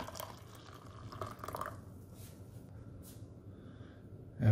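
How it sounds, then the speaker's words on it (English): Hot water trickles and pours into a plastic MRE pouch holding coffee, creamer and sugar, a faint, close liquid fill for the first couple of seconds that fades into quiet room tone. "Add a little hot water."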